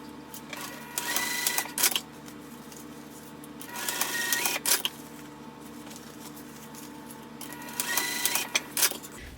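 A sewing machine stitches darts on the front panel of a Clematis garment in three short, loud bursts of rapid mechanical whirring, separated by quiet pauses.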